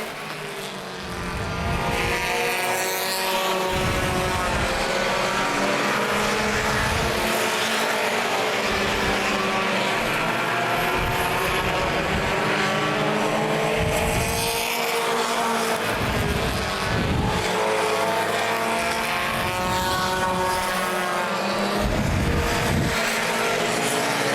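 Mini stock race cars lap Plymouth Speedway in a 2011 short-track event, their engines a continuous loud roar with passing whines rising and falling as cars sweep by, steady throughout without talk.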